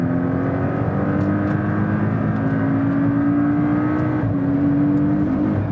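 A 2017 Porsche 718 Cayman with the seven-speed PDK dual-clutch transmission drives on a racetrack, its engine droning steadily and loudly throughout with a gradually rising pitch as it accelerates, with no speech.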